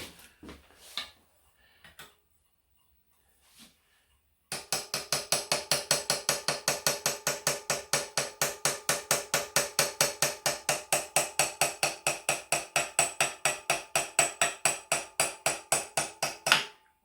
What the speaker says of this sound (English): I'm listening for a change of tone while I'm tapping away.